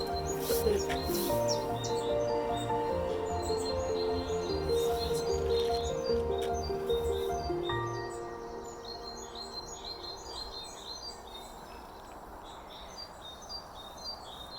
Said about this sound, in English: listen to the blackbirds